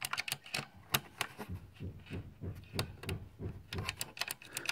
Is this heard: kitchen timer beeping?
no